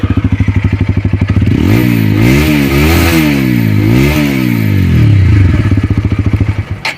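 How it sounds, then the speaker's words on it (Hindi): A 2023 Apache 160 motorcycle's exhaust thumps at idle, then swoops up and down through several loud revs before settling back to a steady idle, up close with no talking. "इसका जो एग्जॉस्ट है ना वो कुछ ऐसा सुनाई देता है"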